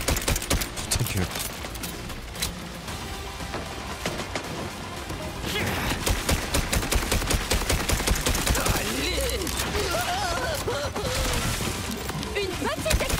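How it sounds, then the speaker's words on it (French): Dense, rapid gunfire and a small explosion in the video game Borderlands 4, a continuous loud barrage of shots and impacts with people talking over it. "Une petite explosion."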